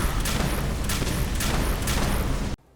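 Rapid volley of gunfire from a weapon in the video game Fallout 4, a dense, loud burst of repeated shots lasting a couple of seconds, then cutting off abruptly into silence.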